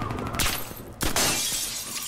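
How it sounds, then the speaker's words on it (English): Glass shatters twice in the shooter game Warface, each a sharp crash followed by scattering shards, close and loud. "I broke the glass."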